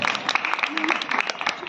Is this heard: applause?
yes